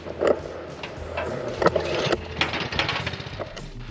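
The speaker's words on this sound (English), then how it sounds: "Where are you drilling the hole?" A powered drill bores a hole into farm ground for a weather station's deep soil probe, giving a rough, grinding engine-like roar with irregular louder bursts, fairly close and with no talking.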